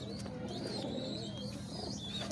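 An Imam Deen pigeon coos softly in a short series of low, rolling calls, faint against steady background noise, with a couple of higher chirps from other birds nearby.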